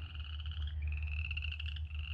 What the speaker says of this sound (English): The frogs are croaking like crazy.